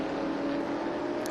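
A 1967 E-Type racing car runs at a vintage road-racing event, its engine a steady, fairly distant drone with a sustained tone for a brief moment and no voices.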